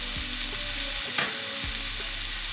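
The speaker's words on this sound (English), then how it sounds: "Medium heat on a non-stick pan, saute your onions slightly until they're soft and slightly brown." Onions sautéing in a non-stick pan over medium heat with no oil, giving a steady close sizzle with a couple of brief stirring scrapes.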